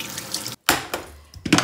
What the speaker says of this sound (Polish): Zaleję trochę zimną wodą, żeby się nie skleił.